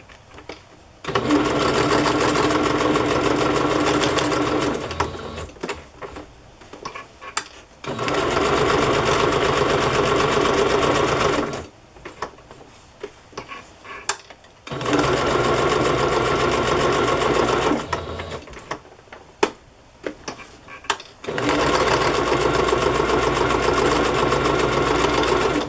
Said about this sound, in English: Sorry, sewing machine.